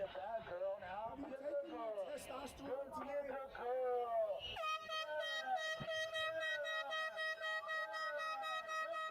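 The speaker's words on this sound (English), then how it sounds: "This air horn guy's killing me." Repeated air horn blasts, a loud steady sustained tone after the first few seconds, sounding over ongoing talk and street noise at a Portland ICE detention center protest.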